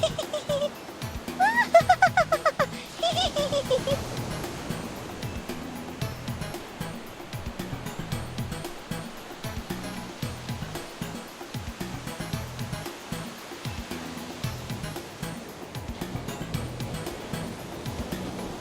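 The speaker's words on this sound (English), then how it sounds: "I do not like the waves" Ocean waves wash onto a beach in a continuous rushing surge, fairly close and steady throughout, with a bit of playful voice and laughter early on.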